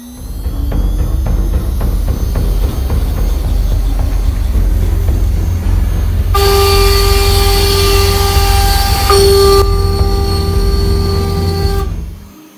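A CNC router cutting at 400 inches a minute, a loud steady machine roar with a high piercing spindle whine and strong tonal overtones that rise midway and hold for several seconds before cutting off.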